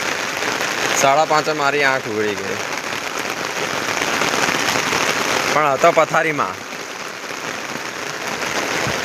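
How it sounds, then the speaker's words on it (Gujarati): Steady early-morning rain in Anand, India, a continuous broadband hiss of falling water that runs the whole time under someone talking in bursts. "આજે સવારે આણંદમાં વહેલી સવારે 6 વાગ્યાથી વરસાદ ચાલુ જ છે"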